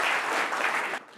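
An audience applauds in a steady burst of clapping that cuts off abruptly near the end.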